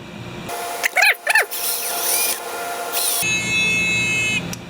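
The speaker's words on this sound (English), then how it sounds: "Drill more holes." A power drill whines in short bursts while drilling holes in a metal detector pointer, its pitch rising and dropping as it bites, followed by a longer steady high-pitched run nearby.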